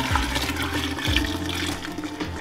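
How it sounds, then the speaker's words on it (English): Fresh milk pours from a milking machine's bucket into another container on a farm, a steady rushing liquid sound that runs continuously and close by, with no talk. "So I'm gonna pour this into our other container."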